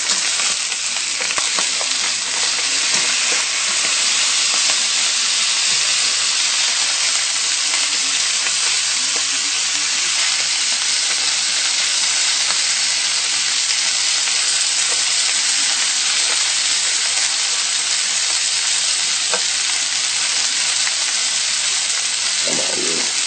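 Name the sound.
food browning and sizzling in a hot pan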